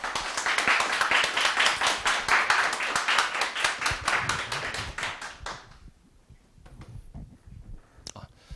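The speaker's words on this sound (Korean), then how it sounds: "모실 때 박수 부탁드릴게요" Audience applause at a Korean CPA exam prep course information session as a financial accounting lecturer is called up, dense clapping for about five seconds, then fading into scattered claps and room noise.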